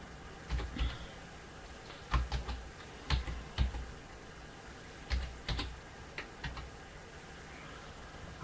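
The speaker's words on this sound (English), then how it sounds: "I can just start typing" Bursts of computer keyboard typing, quick clusters of keystrokes separated by short pauses, close and fairly quiet with no talking.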